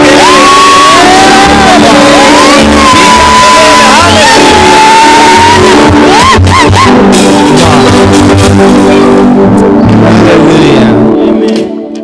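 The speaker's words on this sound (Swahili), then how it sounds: "Pigie Bwana makofi na vigelegele. Hallelujah. Piga vigelegele, shangilia." Ululating church worshippers at a Sunday service in Engarenai fill the space with high warbling trills, shouts and clapping. The celebration stays loud and dense, then thins out and fades near the end.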